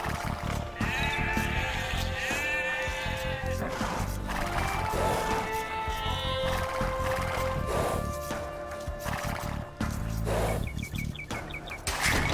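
Sheep bleat repeatedly in Age of Empires II, several wavering calls overlapping one another over a busy bed of game sounds and clatter, loud and close throughout.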